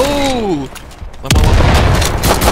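A grenade blasts in an online first-person shooter match, a loud deep boom with rumbling tail after some brief tonal game effects, close and dominant.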